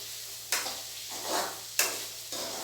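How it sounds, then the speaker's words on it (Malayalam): Onions sauté in a pan for chicken curry, a soft constant sizzle broken by two sharp spatula scrapes and stirring sweeps, heard close with no voices. "ഉള്ളി ഒന്ന് നന്നായിട്ട് വഴണ്ട് വരട്ടെ"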